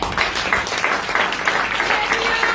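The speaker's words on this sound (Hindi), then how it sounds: "ताली बजा देंगे" Congregation clapping during a Hindi sermon at Bethel Prayer House in Ludhiana, a steady close patter of hands with some voices mixed in.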